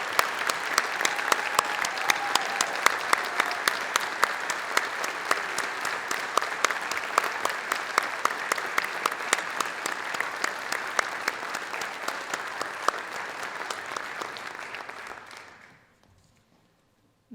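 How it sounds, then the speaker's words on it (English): An audience at a high school National Honor Society induction ceremony applauds the class of 2022. The clapping is loud and sustained for about fifteen seconds, then quickly fades to silence. "Please join me in applauding all of our National Honor Society members from the class of 2022."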